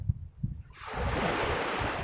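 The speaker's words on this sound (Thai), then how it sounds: "มีคลื่นอ่ะ" Sea waves surge in on the shore where an egg-bearing blue swimmer crab is released, a broad rushing wash rising suddenly after a quieter start of low thumps and wind, then holding loud and close.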